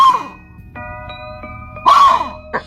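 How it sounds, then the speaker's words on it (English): Eagle calling in a few sharp, tonal cries with high whistled overtones, loud and close, separated by short pauses, with no talking. "Eagle bird."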